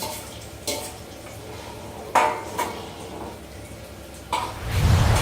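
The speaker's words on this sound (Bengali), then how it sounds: "এর মধ্যে আমি পনিরটা ঢেলে দেবো" Paneer drops into a pot of boiling kabuli chana with several sharp clanks of utensil on pot, followed by a swelling bubbling simmer at the end; no talking.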